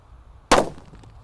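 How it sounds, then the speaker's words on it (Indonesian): A sunflower firecracker goes off with a single sharp burst after near silence, a loud crackling blast that fades quickly into a short hissing tail. "ada mercon sunflower kita nyalakan"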